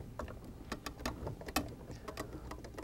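Screws come loose on a Fleck 2850 control valve, turned with a nut driver, ratchet or slotted screwdriver. Faint, close, irregular mechanical clicks and ticks repeat throughout, with no talk.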